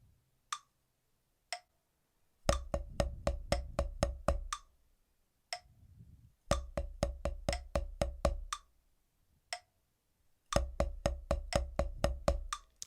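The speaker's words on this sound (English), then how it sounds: "we just play single stroke, and without accent would sound like this." A snare drum played in even single strokes without accents, bursts of rapid evenly spaced hits separated by pauses and isolated single taps, close and clear with no talk.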